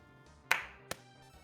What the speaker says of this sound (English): Only one of those claps really came through on the mic.